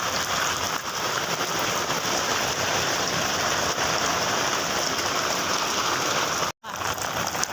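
Heavy first rain of the season pours down in a steady, dense hiss of drops striking surfaces, unbroken except for a momentary dropout near the end.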